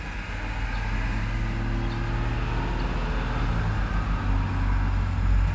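An asphalt paving truck rumbles past amid continuous road traffic, a loud low engine drone that stays steady throughout with no voices.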